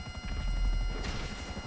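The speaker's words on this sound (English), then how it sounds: "Okay, so there's the helicopter." A helicopter in the video game GTA V Online whirs with a steady rotor chop and engine drone, fairly loud and continuous over a short stretch.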